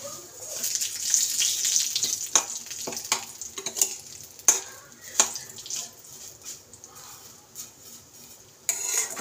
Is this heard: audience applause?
no